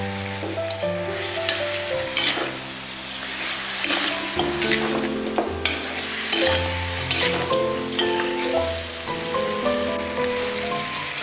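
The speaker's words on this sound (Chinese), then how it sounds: "洋葱放进去，红辣椒放进去，咱再放点白芝麻。 让它翻均匀" Dry-pot pork ribs stir-fried with onion and red chili in a wok, a continuous loud sizzle with scraping stirs, and background music playing underneath.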